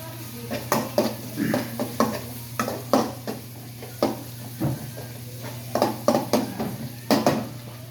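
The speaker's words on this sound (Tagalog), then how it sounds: "medyo papulain muna natin ng kaunti yung sibuyas bago natin ilagay itong bawang" Onion sautéing in a pan for chicken adobo gives a low steady sizzle beneath frequent sharp clinks and scrapes of a utensil stirring against the pan, close and fairly loud.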